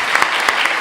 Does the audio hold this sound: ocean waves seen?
no